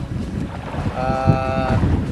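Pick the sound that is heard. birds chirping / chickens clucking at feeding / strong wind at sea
strong wind at sea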